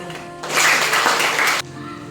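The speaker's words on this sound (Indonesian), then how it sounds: "Tepuk tangan untuk kita semua." A group in a classroom teacher-coaching session breaks into a short burst of hand clapping lasting about a second, loud and close, between stretches of a voice speaking.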